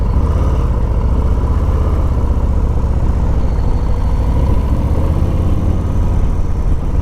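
A Harley-Davidson Street Bob 114 motorcycle engine thrums in second gear while riding, a loud, steady low-pitched rumble that holds constant throughout.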